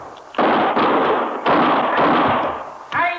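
A run of loud, close gunshots from an old-time radio western drama arrives as several heavy blasts in quick succession, each trailing into a short echo, with almost no talk over them.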